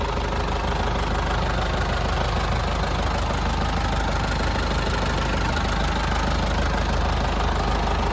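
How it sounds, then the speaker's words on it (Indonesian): A Toyota 14B diesel engine swapped into a Land Cruiser FJ40 hardtop idles steadily and close by, a dense continuous rumble with faint knocking clatter and no voices. "Nah, ini untuk suara mesinnya. Mesinnya 14B."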